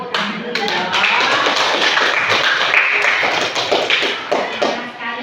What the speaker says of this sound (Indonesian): Waduh, tepuk tangan dulu dong.